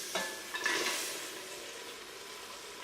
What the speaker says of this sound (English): Now stir well to coat all the gizzards with the delicious peppered sauce